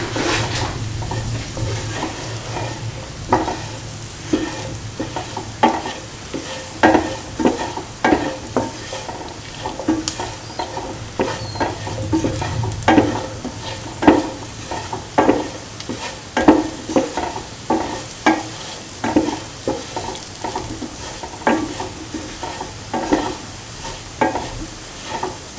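Spices are stirred in a sizzling frying pan, with a spoon scraping and tapping in an irregular rhythm over a continuous low frying hiss, close and fairly loud.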